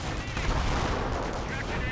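Sniper rifle shots and machine gun bursts in the Company of Heroes WWII strategy game, a dense, steady barrage of battlefield gunfire that holds for the full two seconds without a break.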